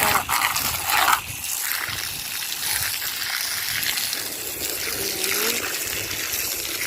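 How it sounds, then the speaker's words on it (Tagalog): A strong stream of water rushes and splashes onto plants, a steady broadband hiss close up with a brief louder surge near the start. "Yan sa tubig, lakas ng agos ng tubig, tamang tama sa halaman."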